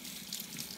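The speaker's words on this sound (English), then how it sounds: "You can slosh it around a little bit and then let it run out." Water trickling out of a recorder's windway after rinsing, a faint soft splashing run lasting under a second.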